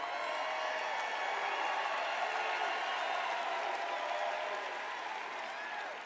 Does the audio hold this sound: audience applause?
yes